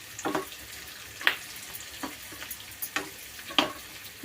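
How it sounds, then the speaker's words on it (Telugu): Sliced onions fry in a pan while being stirred, a soft low sizzle broken by scattered scraping taps and clinks of a spoon against the metal. "కొంచెం బాగా వేయించుకుందాం"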